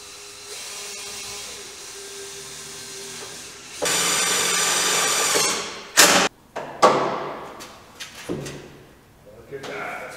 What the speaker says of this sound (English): here I'm going to start to drill a couple of holes to mount the bracket